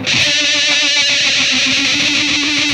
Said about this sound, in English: it seems to work the best when it's going into some kind of distortion, and you can just hear that reverb tail